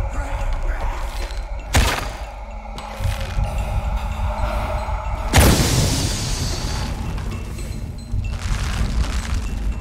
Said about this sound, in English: I need to create an explosion to raise the platform.